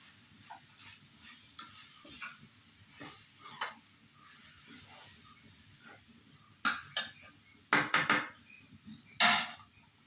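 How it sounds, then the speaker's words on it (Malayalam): A spoon stirs masala in a pan with a steady, quiet scrape and soft sizzle, followed by several louder clattering bursts as chicken pieces are dropped in and mixed. "ഇതൊന്ന് ഇളക്കിയിട്ട് നമുക്ക് ചിക്കൻ ഇട്ട് കൊടുക്കാം"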